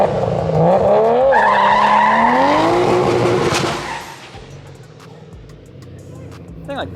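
A Barra-engined Ford GT350 does a straight-line burnout, its engine roaring loud and close while the tires squeal and wail for several seconds, then dropping to a lower rumble as the car eases off.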